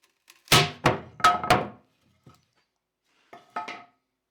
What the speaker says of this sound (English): So pry bar and the claw hammer get a lot of work on this.